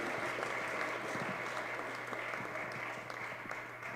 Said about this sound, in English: Can we get a round of applause Yes. for these kids?